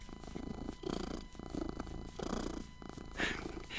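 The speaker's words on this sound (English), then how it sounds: "Such a loud purr." A cat purrs loudly and close by, a steady rhythmic rumble with no one speaking.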